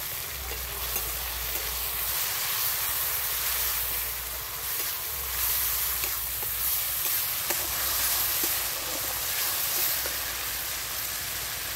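Ground garlic paste sizzles in hot oil in a pan, making a steady, fairly loud frying hiss with faint stirring clinks and a low background hum throughout.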